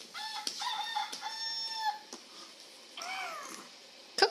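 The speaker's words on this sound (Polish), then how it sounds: "Kogut? Kukuryku?" A rooster crows in a farm-animal setting, a loud, drawn-out call lasting about two seconds, followed by a second shorter wavering call and a sharp burst at the end.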